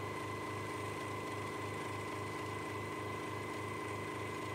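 A 12 volt motor driving a hoverboard motor used as a generator on a bench whirs with a steady, rapidly pulsing hum and a constant electrical whine, faint and unbroken.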